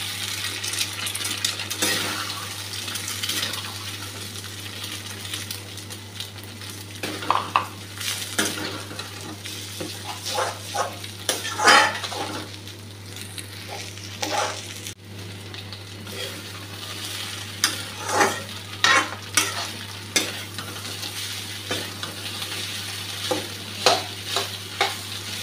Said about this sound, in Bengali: ভাজা হয়ে এসছে, ডিমটা দিয়ে দিচ্ছি। 4টা ডিম নিয়েছি।